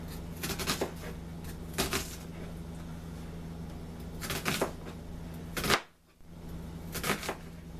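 A knife slicing vegetables for an Italian sausage dish with peppers, onions, zucchini and mushrooms into thin strips on a cutting board, heard as bursts of close, crisp chopping strokes separated by pauses, with one abrupt dropout near the end.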